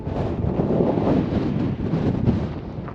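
Wind buffets a microphone in continuous low rumbling gusts, loud and close, with no voices, on a desert hike in Anza-Borrego Desert State Park.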